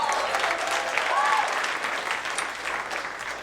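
A comedy club audience at the Dayton Funny Bone applauds steadily, a dense wash of clapping that holds loud and then tapers slightly, with a faint voice briefly audible partway through.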